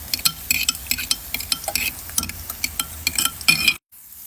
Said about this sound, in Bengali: পেঁয়াজটা একটু নেড়ে দেবো।